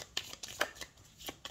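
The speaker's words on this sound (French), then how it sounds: "On va tirer 3 cartes pour le sentimental." Tarot cards being shuffled, a short run of soft rhythmic riffling snaps close up, quiet and without talk.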